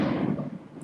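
A single muffled boom of fireworks going off outdoors, heard from indoors, with a short decaying rumble.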